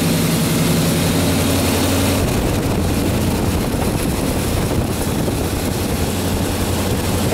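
A 350 Chevy V8 idles loud and steady during break-in inside a closed building, a continuous dense low roar that fills the space without pause.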